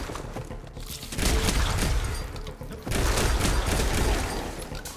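Heavy gunfire and explosive booms in the video game Zombotron, with two dense, loud bursts of rapid shots separated by a brief lull.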